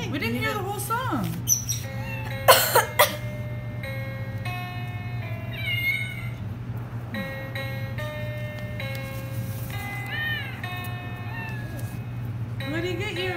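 Several short cat meows sound over a steady low hum, spaced irregularly across the stretch, with a few brief squawk-like chirps mixed in.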